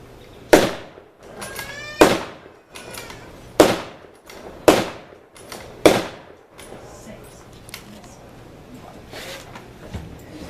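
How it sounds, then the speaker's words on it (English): A Springfield 1903 bolt-action rifle fires five loud, sharp shots, about one to one and a half seconds apart, each with a short echo. The shots are followed by quieter handling noise and faint voices. "Ladies and gentlemen, I will now demonstrate the Springfield 1903 rifle."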